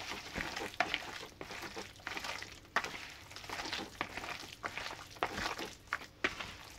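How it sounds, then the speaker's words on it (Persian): Raw meat for chenjeh kebab being worked together with its marinade ingredients by hand, giving wet squelching and slapping sounds in an irregular rhythm, close and fairly soft, with no talking. "حالا اینا رو با هم دیگه خوب ترکیب میکنیم. قشنگ این مواد به همه جای گوشتمون بگیره"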